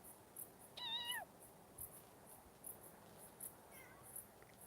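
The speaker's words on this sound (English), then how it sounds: "Yes, I hear you, cat." A cat meows once, short and fairly close, outdoors during a walk, with a fainter second meow a few seconds later over steady background hiss.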